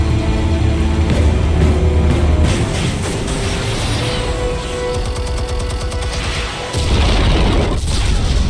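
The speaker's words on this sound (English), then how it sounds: "Explosives armed. Fire when ready." Explosives detonate in Telltale's Batman with heavy, loud booms and crashing debris, a dense roar that swells, dips briefly, then surges again near the end with no talk over it.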